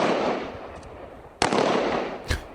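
Sharp gunshots from sniper training, heard as two loud cracks about a second apart over steady background noise.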